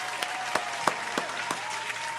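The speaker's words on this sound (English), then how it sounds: "He get another round of applause." Audience applause rolls on steadily, a continuous crowd clapping texture punctuated by a few sharper, louder claps at roughly regular intervals, with no talking over it.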